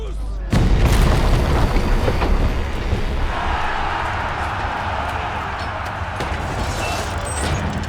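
A siege battering ram fires in the medieval combat video game For Honor, a heavy low boom followed by a sustained rumbling, clattering roll that stays loud for several seconds.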